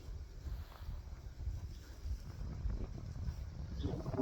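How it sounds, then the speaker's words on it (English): Outdoor wind buffets the microphone as a storm approaches, a low, uneven rumble that swells and gusts steadily throughout, fairly faint, with no talking. "It's meant to be a big storm later on, so it's getting quite windy."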